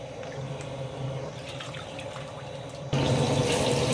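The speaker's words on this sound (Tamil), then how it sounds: "நம்ம எண்ணெய் ஊற்ற ஆரம்பிச்சிட்டாங்க" About five litres of cooking oil pour into a large pot for temple meal cooking, making a faint, steady liquid gush. The pour grows noticeably louder for the last second.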